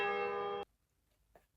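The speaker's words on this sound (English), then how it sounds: "I go, and it is done, the bell invites me" A single sustained toll of a church bell rings loud and clear for just over half a second, then cuts off into near silence with a faint later sound.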